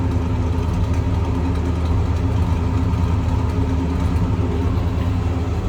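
A 1967 Pontiac LeMans two-door hardtop's V8 idles steadily while warming up, heard from behind the car as a continuous low rumble with a faint lope and no voices.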